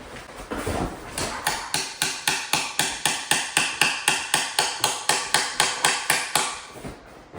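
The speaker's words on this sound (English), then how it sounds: "this looks like a hammer" A hammer strikes repeatedly during assembly work, about two dozen sharp, evenly spaced blows in a steady fast rhythm, loud and close, with no talk over them.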